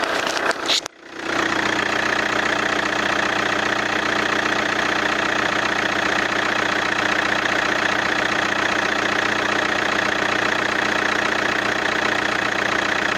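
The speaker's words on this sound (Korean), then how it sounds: "이제 엔진 소리 한번 들어보도록 하겠습니다" Chevrolet Lacetti Premiere diesel engine idling, heard from outside the car: a brief thump at the start, then a steady, even diesel clatter and drone that stays loud and unchanging throughout.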